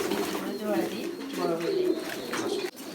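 Pigeons at a home pigeon farm in Feni coo steadily in soft, rolling calls, close by, with voices murmuring in the background.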